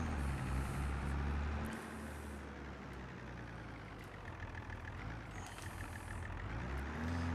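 A front loader vehicle in the video game Farming Simulator 22, its diesel engine idling with a steady low rumble and faint high hisses and mechanical tones, no talking.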